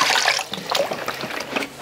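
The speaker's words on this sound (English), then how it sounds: "I'm gonna add vinegar" Vinegar is poured into a 50-year-old Le Creuset pot, a short, close splashing trickle of liquid with uneven bubbling bursts.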